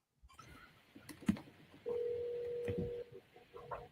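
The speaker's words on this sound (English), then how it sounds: "you're calling agents all day long and no one's picking up the phone" Ringback tone of an outgoing phone call that nobody answers, a steady electronic ring held for about a second after a few keypad clicks, heard close through the handset without any voice.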